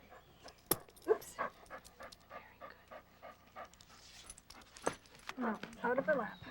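A dog panting in short, quick breaths close by during a calm TTouch handling session, with occasional jingling and shuffling noises. Nobody speaks, and the panting grows louder toward the end.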